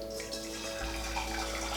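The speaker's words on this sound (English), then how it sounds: "Pour some water in" Water pours steadily into a pot for boiling with baking powder, a continuous splashing gush with a slight shift in tone partway through.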